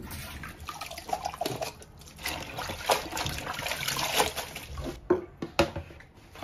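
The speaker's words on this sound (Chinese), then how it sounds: "泡好的裙带菜再给它清洗一遍。" Soaked wakame seaweed rinsed in water in a home kitchen, a close, continuous splashing and trickling with bursts of sloshing and a few sharper knocks near the end, no voices.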